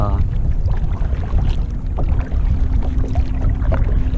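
Steady wind buffeting a microphone with water sloshing against a Crescent Ultralite kayak being paddled into the wind, a voice talking intermittently underneath.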